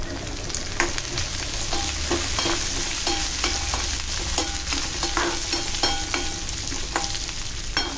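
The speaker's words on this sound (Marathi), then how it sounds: "लसूण छान लाल झाली पाहिजे फोडणीमध्ये." Garlic sizzling in hot tempering oil with curry leaves and coriander, a steady crackling fry with occasional sharp pops and the scrape of stirring, close and continuous with no talk.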